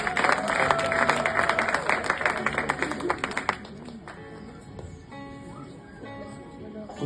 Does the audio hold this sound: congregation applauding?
yes